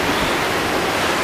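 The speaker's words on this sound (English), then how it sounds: "You can hear the ocean." Ocean surf at Turtle Bay Resort on Oahu, Hawaii, heard from a hotel balcony: a steady, broad wash of breaking waves at moderate distance, continuous and even with no voices.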